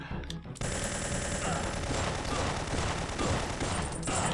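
Rapid gunfire from the video game Syphon Filter 3, dense automatic bursts that start abruptly after a short pause and continue loudly and steadily to the end.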